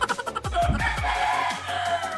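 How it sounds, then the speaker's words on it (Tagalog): A neighbour's rooster crows loudly and fairly close, its long wavering cock-a-doodle-doo rising over a few short clucks, with no talk over it. "Manok ng kapitbahay. Tilahok ng tilahok eh."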